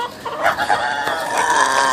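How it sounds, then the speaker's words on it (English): A loud, close rooster crow, drawn out and strained, filling the whole moment. "They sound just like that. That guy's a rooster too."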